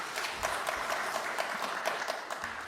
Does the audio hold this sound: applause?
yes